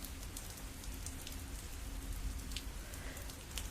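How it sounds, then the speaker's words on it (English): Heavy rain pours steadily in the Glory Hounds video game, a dense, continuous hiss of drops drumming on surfaces with no voices. "the rain's coming down hard"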